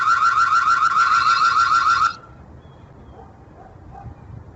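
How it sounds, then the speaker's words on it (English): A Ring Floodlight Camera panic alarm blares a loud, rapidly warbling electronic siren for about two seconds, then cuts off abruptly, leaving a quiet room with faint background noise. "The floodlight also comes with a panic alarm,"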